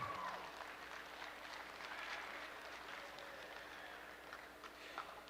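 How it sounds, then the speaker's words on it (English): An audience applauds at an Ayrshire cow show after the senior three-year-old class, a steady wash of clapping that sounds somewhat distant and soft and tapers slightly toward the end. "Let's give these cows a big round of applause."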